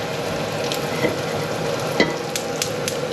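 Bacon bits fry in a pan with a steady close sizzle, broken by a few sharp clicks and scrapes of stirring, while pasta is being made; no one speaks.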